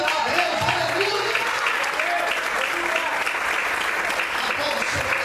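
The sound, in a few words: congregation applauding in church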